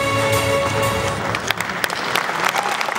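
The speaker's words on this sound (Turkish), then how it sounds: "Alkışlattıramız aziz mehmonlar, g'oliblarimizni." An audience at a ceremony honoring sports champions applauds steadily, dense clapping filling the hall, while a voice speaks faintly over it.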